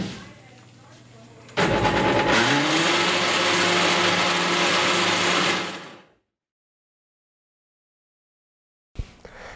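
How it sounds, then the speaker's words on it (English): A blender running, a loud steady whirring roar that starts abruptly, holds for several seconds, then winds down to silence; a voice talks briefly before it starts. "Hey, you gonna be a lot longer with the blender?"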